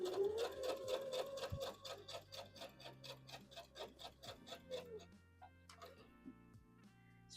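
Sewing machine stitching over all-metal flat-head pins on a wrap dress, a steady rapid run of needle ticks for about five seconds before it slows and stops, followed by a few faint clicks.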